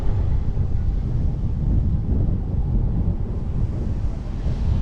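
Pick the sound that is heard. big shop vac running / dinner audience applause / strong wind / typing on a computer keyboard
strong wind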